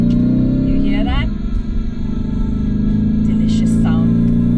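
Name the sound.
Lamborghini Urus Performante engine on wet circuit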